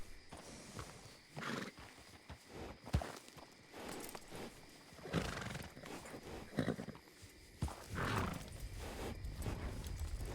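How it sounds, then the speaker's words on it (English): Many horses in a video game, heavy irregular hoof thuds and clip-clops with some whinnying as the herd approaches from a distance, moderately loud with no talking. "Oh, that sounds like a lot of horses."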